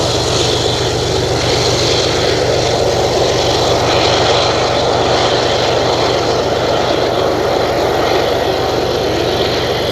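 A BNSF GM EMD SD75M diesel locomotive built in 1990 rumbles steadily and loud, its deep engine throb continuous without a break and no voices over it.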